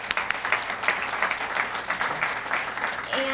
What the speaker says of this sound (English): So I think she deserves a round of applause for that.